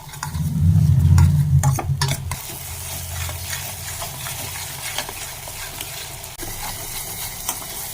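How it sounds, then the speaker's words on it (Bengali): Cumin paste and coriander powder being sautéed and stirred in a pan for pabda fish curry; loud clattering spoon strokes at first, then a steady close sizzle with occasional scrapes. "এবার একটু কষিয়ে নেব জাস্ট।"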